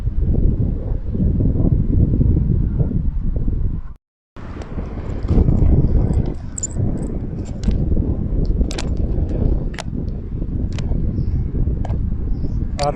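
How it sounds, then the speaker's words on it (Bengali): Strong wind gusting through trees by a lake in a forested park, a loud rushing roar with microphone buffeting, briefly dropping out, then continuing with rustling and scattered crackles. "প্রচুর বাতাস"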